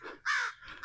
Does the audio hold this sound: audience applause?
no